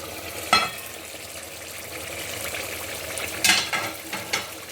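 Stock fish soup for egusi boiling under a lid on the stove, a steady hissing bubble broken by two sharp clinks of the lid or utensil against the pot.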